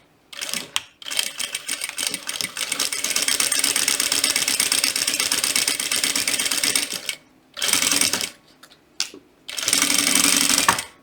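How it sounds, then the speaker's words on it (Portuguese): A sewing machine stitches fabric along a marked line for a butterfly pouch, running in long steady bursts of rapid mechanical whirring broken by short pauses, close and loud with no talk. "Vai costurando em cima do risco."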